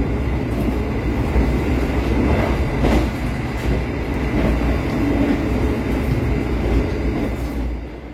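A passenger train rattles and shakes hard while passing Cikampek station, with a continuous loud rumble, clattering wheels and jolting carriage noise heard from inside, with no talking.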